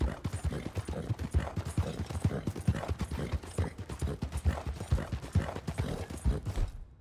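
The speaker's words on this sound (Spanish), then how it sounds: "Se me va de lado el caballo." Hooves clip-clop in a brisk, steady rhythm as a horse is ridden in Red Dead Redemption 2, the close thuds repeating evenly with faint tack and gear rattling beneath them.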